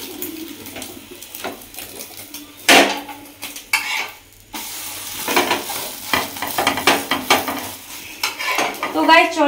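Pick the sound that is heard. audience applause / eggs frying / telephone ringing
eggs frying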